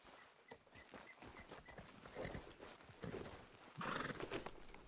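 Horse hooves clip-clop at a steady walking rhythm in Red Dead Redemption 2, close and fairly loud, with a horse whinnying and snorting over the hoofbeats.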